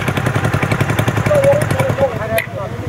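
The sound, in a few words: motorcycle on off-road trail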